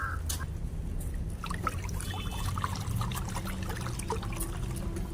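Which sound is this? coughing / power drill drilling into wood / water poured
water poured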